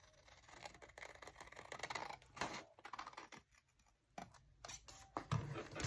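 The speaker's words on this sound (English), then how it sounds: "So I'm going to cut it on the other side." Scissors cutting thin single-sided 12x12 paper, a series of close, crisp snips and slicing crunches in irregular bursts with brief pauses, quiet overall.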